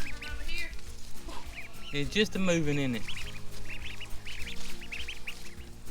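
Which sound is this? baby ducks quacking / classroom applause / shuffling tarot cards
baby ducks quacking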